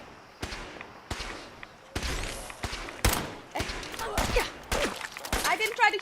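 Video game gunfire in a match where a scorpion is being shot at: sharp bursts and cracks in an irregular series, growing denser and louder toward the end, with voices talking over them.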